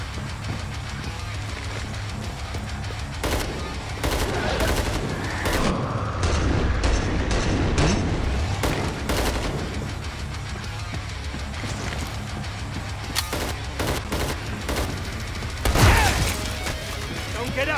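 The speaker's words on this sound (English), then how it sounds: "Incendiary trench gun." Repeated booming shotgun blasts from an incendiary trench gun in the video game Killing Floor 2, fired in irregular bursts over game noise, with a player talking throughout.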